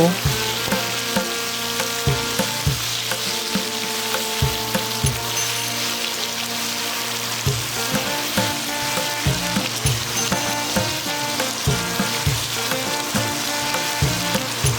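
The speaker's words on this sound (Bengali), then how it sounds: "আমড়াগুলো সব দেওয়া হয়ে গেছে এবারে কিছুক্ষণ এইভাবে নেড়ে চেড়ে ভাজতে থাকবো" Steamed hog plum pieces fry in hot oil in a pan for a Bengali sweet and sour pickle, giving a loud, steady sizzle with regular stirring scrapes and knocks throughout, and no voice.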